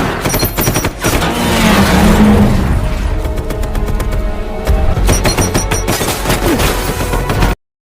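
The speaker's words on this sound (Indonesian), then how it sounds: "terjadilah baku tembak di jalanan" Rapid volleys of gunfire crackle through a street shootout in the action film Raging Fire, dense bursts overlapping with booms and sharp impacts, loud and close, with no talking.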